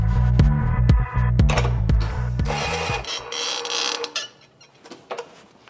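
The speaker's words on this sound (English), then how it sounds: "we got our fixtured power tool set up for 175 newton meters. We have our bolt set up on the nut side tightening first" An Atlas Copco fixtured power tool tightens a bolt from the nut side to 175 newton meters in a lab test. A stepped, rising motor whine lasts about three seconds, then a short burst of broadband noise fades to quiet.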